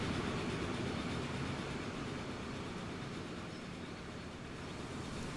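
Trains race along rails in the video game Transport Fever 2, giving a steady, dense rumble of wheels and engines that runs unbroken and fairly loud throughout.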